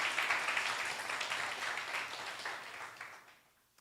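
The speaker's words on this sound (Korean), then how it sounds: "하나님 앞에 다시 한번 영광의 박수 올려드립시다" Congregation at a church worship service giving a round of applause, dense even clapping that tapers off and fades to quiet near the end.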